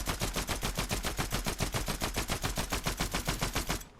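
A rapid automatic gun in Fortnite fires a long unbroken burst, around eight shots per second in an even, steady rhythm, loud and close, then stops abruptly at the end.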